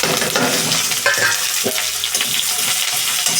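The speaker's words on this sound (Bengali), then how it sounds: "এই লঙ্কা ভাজা তেলেই আমি এই পেঁয়াজ আর রসুনগুলো ভেজে নেব" Onions and a whole garlic bulb fry in oil already used to fry chilies, for a dal and cauliflower dish, making a loud, dense, continuous sizzle close up throughout.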